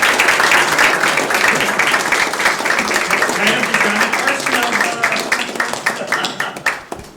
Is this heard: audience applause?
yes